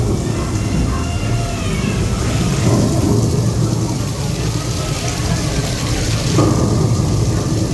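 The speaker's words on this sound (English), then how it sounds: "it's time for some lightning to be striking" A simulated thunderstorm effect inside Rainforest Cafe at Disney Springs fills the room with a dense, continuous rumble and hiss like heavy rain and rolling thunder, swelling slightly in places and staying loud throughout.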